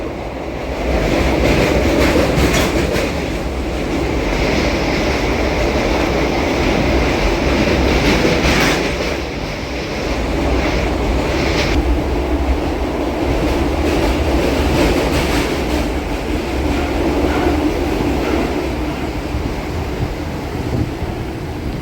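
A MEMU train rolls steadily along the rails between Rajahmundry and Bhimavaram, a continuous loud rumble and rattle with rhythmic clacking, like riding inside a carriage.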